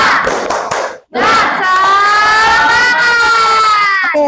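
Pupils in a microteaching class clap the rhythmic "tepuk semangat" pattern and then shout a sustained chant together. The clapping bursts come first, followed after a brief pause by a loud, long unified group cry.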